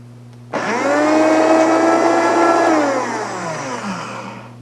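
A countertop blender whirs loudly and steadily for about four seconds, its motor pitch shifting slightly as it blends raw food before winding down near the end.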